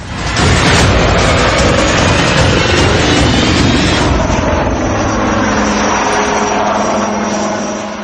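An HAL Light Combat Helicopter flies in Leh Ladakh at roughly 16,000 feet. Its loud, continuous rotor and engine roar dominates throughout, easing slightly midway but staying close and powerful.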